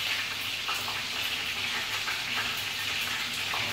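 Food frying in a pot gives off a continuous, even sizzle and crackle, with soft scraping as it is stirred, steady and close with no talking.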